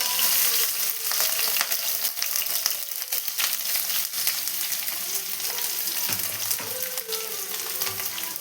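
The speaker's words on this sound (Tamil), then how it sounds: "கட் பண்ணி வச்ச ஆனியனை சேர்த்துக்கிறேங்க." Chopped onions hitting hot oil with popped mustard seeds and curry leaves, a steady loud sizzle and crackle running throughout with occasional spatter pops and a brief stir near the end.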